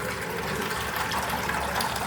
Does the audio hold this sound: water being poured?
yes